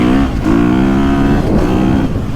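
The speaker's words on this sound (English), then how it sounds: "you just hear that engine" A close, loud KTM 350 motorcycle engine revs and drones steadily, its pitch rising and dipping a couple of times over a few seconds.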